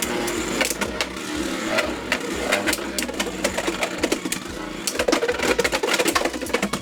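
Beyblade X tops, including Hells Reaper, spin and clash in a stadium, giving a steady near whirring buzz broken by many sharp metallic clicks and impacts across the whole stretch.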